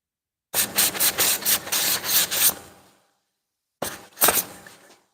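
A belt sander working a wooden dragonfly cutout, a steady rubbing grind with pulsing strokes for about two and a half seconds, then a pause and a second short burst of sanding.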